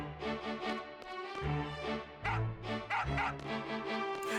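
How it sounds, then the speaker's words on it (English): A dog barks and yips repeatedly in Final Fantasy VIII, with short bursts over steady game music and background tones, moderately loud and close. "There's a dog!"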